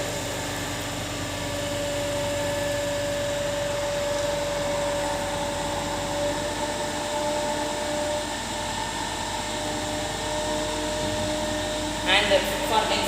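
A DC series generator runs under load on a laboratory test bench, giving a steady, loud mechanical hum and whine with a sustained tonal drone, and a few brief clicks near the end.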